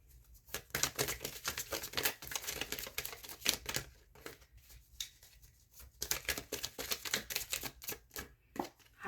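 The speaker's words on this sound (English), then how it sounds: "Give me a second to shuffle." A deck of tarot oracle cards is shuffled close by in quick riffling bursts and flicks, with short pauses between rounds of rapid papery clatter.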